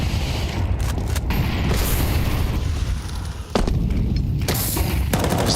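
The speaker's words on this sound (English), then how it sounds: "Spamming bullets to shoot his own teammate a little bit" Rapid automatic gunfire from a Counter-Strike pro match fills the clip, loud, dense and continuous, with sharp bursts and a brief lull near the middle before the shooting resumes at full intensity.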